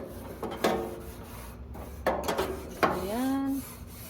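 Fat being scraped off a barbecue grill: a few short scraping and rubbing strokes in bursts, then a longer metallic screech that bends upward in pitch, fairly close, with no talking.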